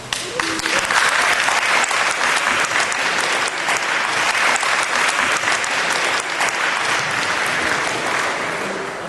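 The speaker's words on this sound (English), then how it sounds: "Would you give them a round of applause?" A loud, sustained round of applause from an audience at a technology tournament thanks the judges. Many hands clap densely and evenly throughout, without a break.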